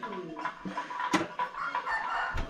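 Chickens at a rural Thai homestead cluck and a rooster crows in short, fairly close bursts over a noisy outdoor background.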